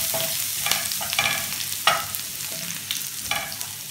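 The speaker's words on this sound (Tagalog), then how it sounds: "igisa muna natin ang ating mga gulay" Vegetables for pancit canton sauté in a hot pan, a continuous sizzle broken by repeated spatula scrapes and clinks at an uneven rhythm, close and moderately loud, with no voices.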